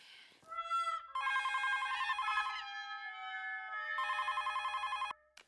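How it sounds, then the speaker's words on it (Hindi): A telephone ringing indoors, two long bursts of rapid trilling electronic bell tones separated by a short pause, clear and close with no voices. "क्या फोन को देख क्या रहा है? जाके उठा।"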